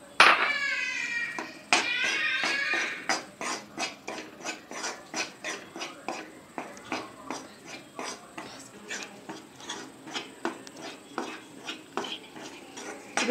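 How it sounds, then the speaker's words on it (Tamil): Gram flour for ghee Mysore pak is roasted in a pan, a utensil scraping and tapping the pan in a steady, brisk rhythm of sharp, close strokes after a brief spoken moment. "நம்ம எடுத்து வச்சிருக்கிற கடலை மாவை அதை தட்டி நல்லா மணக்க மணக்க வறுத்துக்கோங்க."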